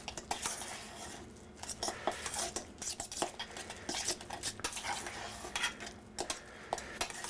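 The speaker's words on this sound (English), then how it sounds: "you want to just mix this up" A utensil stirs mashed potatoes with milk in a pot, producing soft, irregular scraping and knocking against the pot in repeated strokes, fairly quiet and close.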